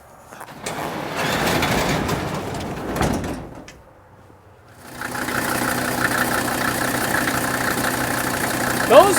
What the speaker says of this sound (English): Those of you who've been around these diesel engines will recognize this is the sound of a healthy engine.